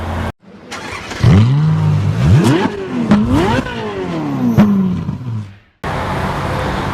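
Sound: Honda Mobilio 1.5 RS car engine revving

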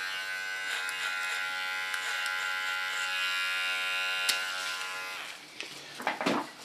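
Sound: electric hair clipper cutting hair

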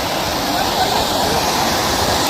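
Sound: fountain splashing in an eco park

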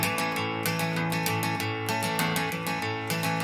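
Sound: rockabilly rhythm guitar in a classic song's style

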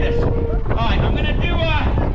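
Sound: strong wind blowing at outdoor pier

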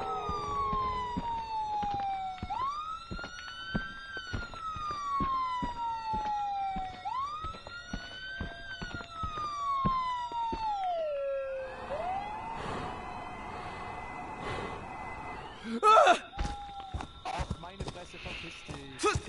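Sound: siren in a video game

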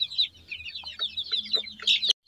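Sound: Sonali chickens pecking and eating grain

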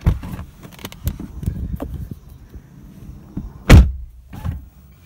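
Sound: solid car door shut on 2018 Lexus LC500h

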